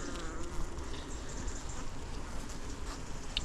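Honeybees in an open hive give off a soft, continuous buzzing hum close by, with individual bees droning in and out over the steady swarm drone.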